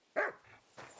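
A pet dog gives a single sharp bark followed by a softer whimpering yip a moment later, both faint and close against a quiet room.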